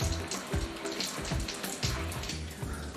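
Water pouring and splashing onto the floor from a leaking pipe during a kitchen demolition in a beach house, a steady rushing flow with sporadic low thumps, fairly loud throughout.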